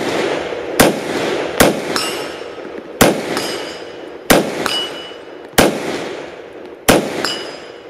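An AR rifle with an American Trigger Corp Gold trigger fires six unsupported shots, each followed by a delayed metallic ring from a 10-inch steel target at 100 yards, in a slow steady rhythm outdoors.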